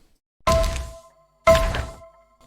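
Two heavy, booming designed impacts in the style of an action film trailer, used in a bus simulator game menu, about a second apart, each with a sharp attack, deep low end, a bright metallic ring, and a short decaying tail.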